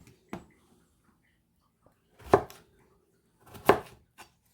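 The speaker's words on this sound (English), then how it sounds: "you're very consistent with your cutting, very symmetrical, very methodical" A knife chops beef stew ingredients into bite-sized pieces on a board, three distinct sharp cuts spaced over a few seconds, close and clear in a quiet kitchen.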